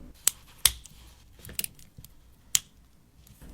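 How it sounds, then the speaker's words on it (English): Sharp cutting snips slice through the thin plastic sides of a Microsoft Surface Slim Pen, giving a few crisp, close clicks and cracks spaced irregularly, with quiet pauses between. "I'll start slicing through both plastic sides of the pen"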